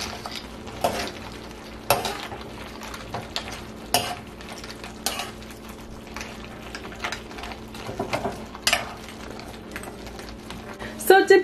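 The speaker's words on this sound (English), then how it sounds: "To gently toss them until all of the chips are coated in the sauce" Tortilla chips are tossed in red chilaquiles sauce in a pan, giving a soft continuous sizzle broken by scattered scrapes and clinks of a utensil against the pan, with a voice talking over it.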